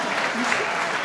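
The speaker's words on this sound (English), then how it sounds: "Another round of applause for the Wilson High School Jazz Ensemble." Audience applause for a high school jazz ensemble at a concert: dense, steady clapping from a crowd, loud and continuous throughout the short moment.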